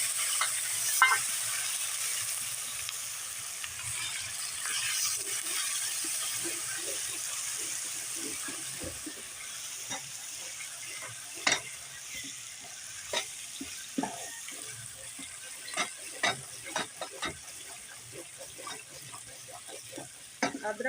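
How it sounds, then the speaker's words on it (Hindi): Ginger and garlic fry in a pot for an aloo chicken salan, giving a steady close sizzle broken by scattered sharp clicks and scrapes of stirring, with no talking. "अब हम अदरक लहसुन इसमें भून लेंगे।"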